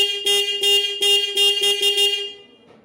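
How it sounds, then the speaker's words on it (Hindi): A Yamaha RX100 two-stroke motorcycle running on a 12V battery sounds its electric horn in several short, loud, close beeps in quick succession, with a brief fade at the end and no voices. "तो ये देखो हॉर्न वगैरह"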